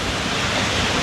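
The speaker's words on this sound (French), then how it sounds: "C'est bon, on est derrière la cascade." A waterfall in Iceland, heard from directly behind the falling curtain of water, makes a loud, steady roar of rushing, splashing water that fills everything without pause.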